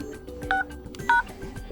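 Two short keypad tones ring out as a code is entered on a ZTE Blade V8 Lite phone dialer. Each beep lasts about a tenth of a second, with roughly half a second between them, over faint background noise.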